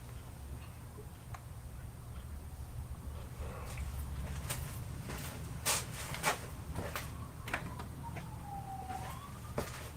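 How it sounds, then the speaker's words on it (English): A distant siren wails faintly in the background, its pitch sliding up and down, while nearby clicks and handling noises sound intermittently. "Oh, I hear sirens."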